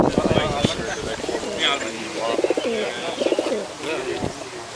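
Several Tippler pigeons cooing in soft, repeated throaty calls at a lawn show, with low voices murmuring in the background.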